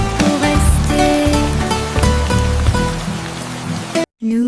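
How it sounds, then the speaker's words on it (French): Steady patter of falling raindrops mixed under a bright children's song with a tuned melody; the sound cuts out abruptly near the end. "Les gouttes de pluie tombent, dansent et jouent."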